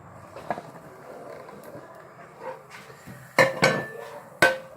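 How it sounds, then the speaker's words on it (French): A pan lid and plate clatter and clink as a tortilla is flipped between them, a few sharp metallic and ceramic knocks standing out over quiet kitchen handling noise. "là je vais essayer de retourner la tortilla. Voilà, avec un couvercle, avec une assiette."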